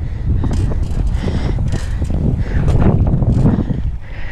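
Strong wind gusting across the microphone outdoors on a riverside bike trail, a loud continuous low rumble with buffeting surges throughout, no talk heard.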